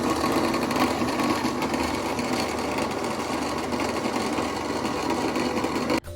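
A Vestel Tarçın S food processor whirs steadily while blending çiğ köfte, a loud, even motor drone with gritty churning that runs without pause, then cuts out abruptly at the end.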